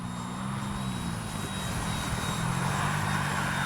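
An FMS 70mm Yak-130 RC jet flies slowly into the wind with landing flaps down, its engine making a steady, even whine that holds at a constant level throughout.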